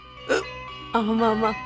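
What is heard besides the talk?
hiccup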